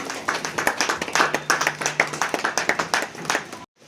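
An indoor audience at a trust's grand opening in Fatehpur, Bhagalpur claps to welcome guests, a dense, close burst of hand claps with a faint voice underneath, ending abruptly.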